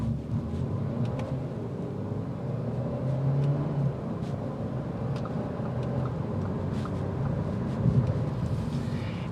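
A 2022 Audi A3 engine hums steadily while driving, heard from inside the cabin as a smooth, continuous low drone with road rumble and slight swells in revs, no talking over it.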